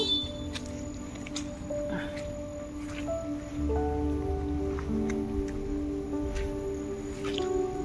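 Rain patters and drips nearby with scattered sharp taps and wet squishing sounds over a continuous low rumble.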